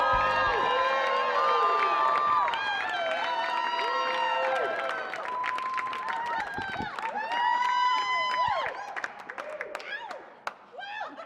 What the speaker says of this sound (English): keep that applause growing for your next comic